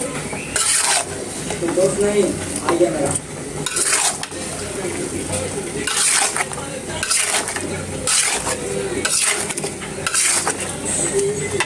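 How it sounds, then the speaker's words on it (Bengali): Mango pickle being stirred in oil in a pan, with a spoon scraping and clinking rhythmically against the pot amid a soft sizzle, repeated strokes every second or two, while someone talks. "ভালোভাবে লাড়া দিয়ে নেই বন্ধুরা"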